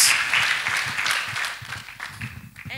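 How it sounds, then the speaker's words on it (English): A church congregation at Shekinah Glorious Faith Ministries applauding, a broad roar of clapping that swells early and tapers off, with scattered voices and cheers beneath it. "Put your hands together for Master Jesus"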